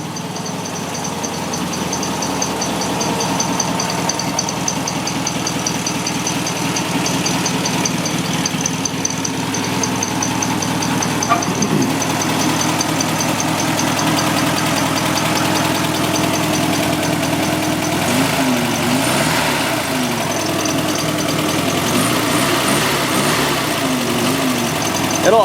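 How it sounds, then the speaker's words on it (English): A 1963 VW Karmann Ghia's air-cooled engine idles steadily and loudly for the whole stretch, a constant throbbing hum with slight unevenness, while someone talks over it at times. "It'll idle down pretty nicely on its own once it hooks up"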